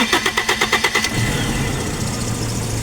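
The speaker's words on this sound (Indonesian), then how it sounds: "coba menghidupkan mesinnya" A Toyota Kijang converted to CDI ignition cranks with a rapid rhythmic starter whir for about a second, then catches and settles into a steady, close idle.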